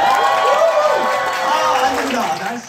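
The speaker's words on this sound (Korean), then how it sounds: "박수하고 환호 소리 한번 들어보도록 할게요" An audience claps and cheers in a loud continuous burst that fades near the end, with voices mixed into the crowd noise.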